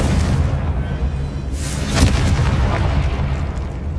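A Confringo blasting spell from Hogwarts Legacy explodes with a heavy, rumbling boom and a sharp burst in the middle, amid continuous loud game effects.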